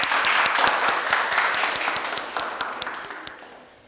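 Audience applause at a Janmashtami celebration event, many hands clapping with distinct sharp claps standing out early, the sound gradually thinning and fading away toward the end.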